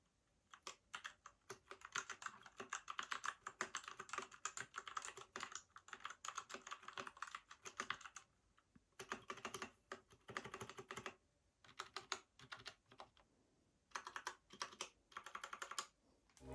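Rapid, clacky typing on a stock RK61 mechanical keyboard, in bursts of keystrokes with brief pauses between them, close and clear.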